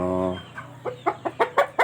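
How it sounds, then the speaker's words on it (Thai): A young gamecock being raised for fighting on a breeding farm in Buriram, Thailand, gives a drawn-out call and then a run of short, rhythmic clucks that grow louder, heard up close. "ฝั่งนี้ก็จะเป็นไก่หนุ่มที่ว่ากำลังทำเนื้อทำตัว เลี้ยงชนครับ"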